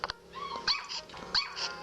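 Neighbours' dogs barking outdoors in a French town at sunset, a quick series of sharp yips and barks in uneven bursts, moderately near and alone without talk.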